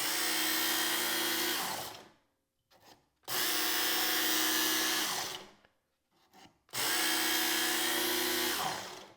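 A Work Sharp power knife and tool sharpener grinds a knife edge in three long, loud, steady motor runs of about two to three seconds each. Brief quiet gaps separate the runs, and no one talks.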